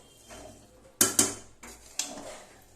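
A spoon scrapes and clanks against a pot while ghee is stirred into polao rice, with a couple of sharp metallic knocks close by and softer scraping between them.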